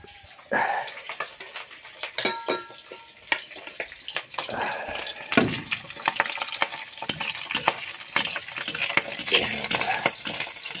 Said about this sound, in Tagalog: Tumatalisik pa yung mantika